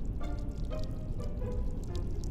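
Running water in a haunted train video game, a low continuous pouring rush with faint trickling and dripping detail, quiet and steady throughout with no voices.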